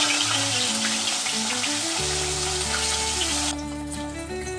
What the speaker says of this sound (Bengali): নুন হলুদ মাখানো মাছ ভেজে নিচ্ছে।